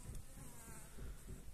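Honeybees buzz at the entrance of a village hive in spring, where dead bees lie in front, a dense, continuous close-up drone with slight swells in loudness.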